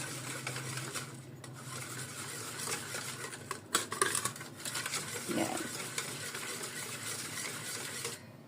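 Kutsinta batter with lye water being mixed by hand, soft scraping and swishing strokes in a bowl, fairly quiet and uneven, with a few sharper clinks of utensil against the container.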